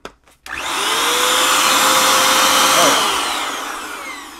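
After a brief quiet moment, a 1300W car wash dryer blower whooshes on at its lowest speed and runs loudly and steadily with a high whine, then starts easing down.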